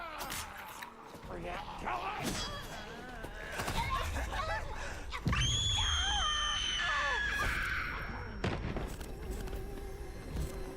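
A video game creature's shrill screams rise and wail over several seconds, mixed with thuds and bangs in a busy, loud scene, with a voice talking at the start.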